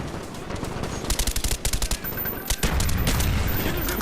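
Rapid automatic gunfire bursts from Call of Duty: Black Ops, loud and close, with stuttering volleys giving way to a sustained roar of shots and no talking.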